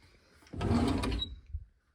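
A cabinet drawer in a homestead craft and storage room slides open in one brief rolling movement with a soft knock at the end, close and fairly quiet.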